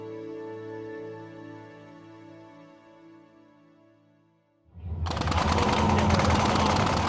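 Simulated machine gun fire in a Navy shooting simulator bursts in suddenly after a fading tonal hum, becoming a loud dense continuous roar of rapid shots that fills the remaining seconds.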